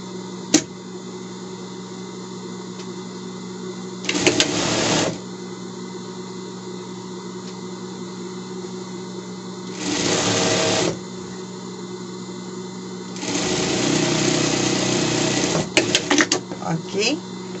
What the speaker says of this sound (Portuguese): Aqui eu também vou fazer uma bainha para dar acabamento.